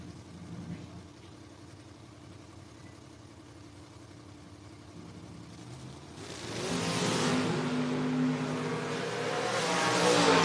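Two drag racing cars, a Chevelle and a Mustang, launch and accelerate at a memorial drag race, their engines swelling from a quiet idle into a loud, rising roar partway through, with a faint announcer heard early on.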